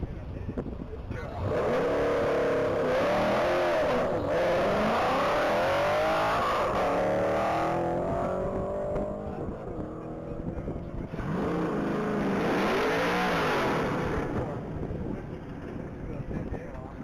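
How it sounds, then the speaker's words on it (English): A silver 2010 Chevrolet Camaro SS tears past on a top-speed mile run at the Texas Mile, its V8 roaring loud and steady with rising gear pulls, buffeted by wind noise, while a commentator talks over it. "that Camaro SS just went through the half mile"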